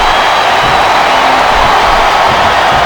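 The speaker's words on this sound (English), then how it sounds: "Listen to the crowd" A dense, steady roar of a large video game wrestling arena crowd cheering at WrestleMania in WWE SmackDown vs. Raw, continuous and loud throughout with no pauses.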